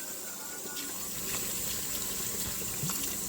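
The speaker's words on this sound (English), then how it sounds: "I'm going to add about a cup of water" Tap water pours steadily into a pot of dried beans, about a pound, ahead of pressure cooking, a continuous close filling rush that swells slightly partway through.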